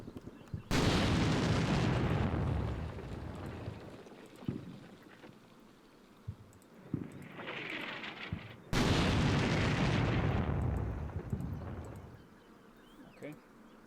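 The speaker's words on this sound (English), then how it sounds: "I don't know if we need to watch the bombardment, really" Artillery bombardment in a war strategy video game: two long, loud broadband blasts roll in, each decaying over several seconds, separated by a quieter stretch with faint insect-like buzzing and scattered small thuds.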